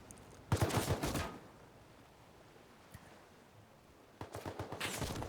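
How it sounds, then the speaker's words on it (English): Video game gunfire in Rust, heard near the ocean, comes in two rapid bursts of repeated shots, one early and one at the end, with a lone shot between them and a wash of waves underneath. "Just gonna ignore these guys shooting at me for right now."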